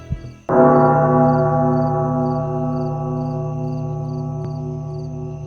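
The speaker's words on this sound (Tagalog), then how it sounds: "biglang tumunog ang kampana ng simbahan." A single heavy church bell strike rings out loudly and then hums on with a long, slowly fading tone, with faint insects chirping behind it.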